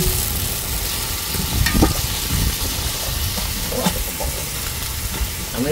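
Food frying in a pan gives a steady, dense sizzle and crackle throughout, with a few brief louder pops and stirring scrapes near the mic.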